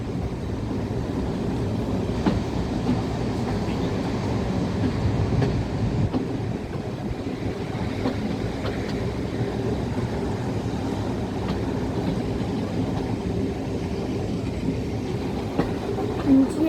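A heritage train on the Dean Forest Railway rumbles steadily along the rails, heard from on board, close and continuous, with a constant rattling roar and occasional faint clacks.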